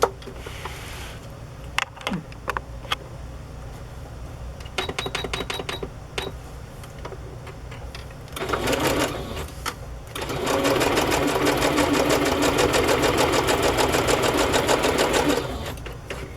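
A sewing machine stitches fabric onto a paper journal page, first in short, faint bursts between pauses, then in a steady, loud run of rapid needle strokes lasting several seconds.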